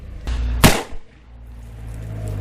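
A Ruger Redhawk Alaskan revolver loaded with Federal match small rifle primers fires one loud, sharp shot outdoors, followed by a brief echo and then a low, steady background rumble.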